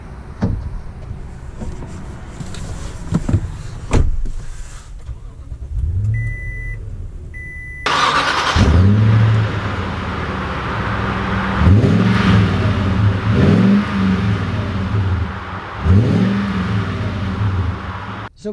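A 2020 Toyota Sequoia TRD Pro SUV starting out: a quiet cabin with soft clicks and a few electronic chimes, then the engine rises into repeated loud revving surges as the big SUV accelerates away through several gear changes.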